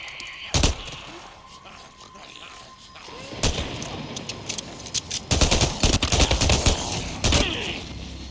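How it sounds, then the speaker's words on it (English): Gunfire aimed at a fuel can in Days Gone, with a loud single shot early, another blast, then a rapid flurry of shots and crashes, with voices under the action. "Simply take out your gun, shoot that fuel can, and this will kill most of them."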